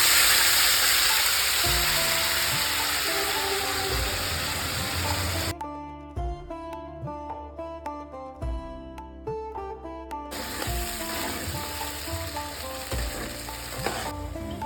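Spice paste hits hot oil tempered with cardamom, bay leaf and whole cumin for a vegetarian paneer dish, giving a close, steady hiss and sizzle. Stirring scrapes come through, and a short stretch of music cuts in midway.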